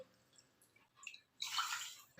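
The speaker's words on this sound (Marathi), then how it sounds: "वाटीच्या साह्याने दोन वाटी पाणी घालून घ्यायचं" Water is poured from a bowl over rice in a pot, two bowls of water to one of rice, before pressure cooking: quiet drips, then a louder rushing pour of about a second.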